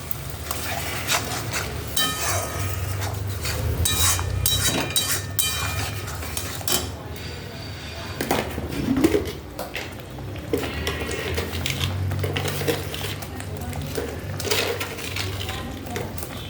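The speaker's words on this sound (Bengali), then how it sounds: "এই পেস্টটা যতক্ষণ না গন্ধটা টমেটোমের যাবে, কাঁচা টমেটোমের গন্ধটা, ততক্ষণ আমি কষতে থাকবো" Tomato paste stir-fried in a pan with repeated metallic scraping and clinking of a spatula against the pan, loud and close, continuing steadily with no voices.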